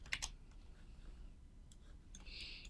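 Keys clicking on a computer keyboard while an equation is typed, a short burst of quick, faint taps near the start and scattered light clicks after, over a quiet room hiss.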